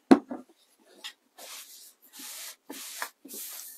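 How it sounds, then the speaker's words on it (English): Several short hissing bursts of spray adhesive onto fabric, close by, each lasting about half a second with brief pauses between, after a soft handling thud at the start. "So we'll add some spray on there."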